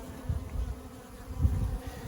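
Honey bees buzz steadily in a weak autumn nuc hive with only a few frames of bees and a drone-laying problem, a low droning hum that swells twice without any talk.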